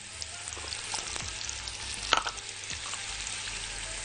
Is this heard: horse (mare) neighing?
no